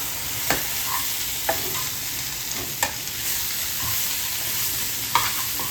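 Dried fish tossed with salt and turmeric in a pan, a steady sizzle broken by five sharp spatula scrapes spaced a second or so apart, close and fairly loud, with no voices.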